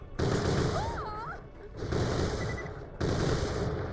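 Turret gunfire in the video game Borderlands The Pre-Sequel, coming as three dense, loud bursts of rapid shots with short breaks between them, with brief whistling tones over the first burst.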